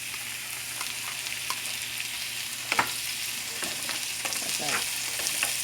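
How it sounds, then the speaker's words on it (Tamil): Chopped onion, green chillies, tomato and garlic sauté in an oiled pan, a low continuous sizzle broken by occasional scrapes and taps of a stirring spoon, with no voices. "தக்காளியும் உள்ளியும் நல்லா வதங்கட்டும்."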